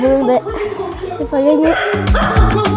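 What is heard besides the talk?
dog barking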